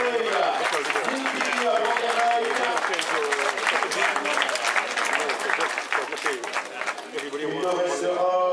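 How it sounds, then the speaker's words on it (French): Crowd applause for the winner of a Kreiz Breizh Elites cycling stage in Rostrenen, steady clapping mixed with an announcer's voice and crowd noise throughout, tapering slightly near the end. "De nouveaux applaudissements, en guise de son talent, s'il vous plaît."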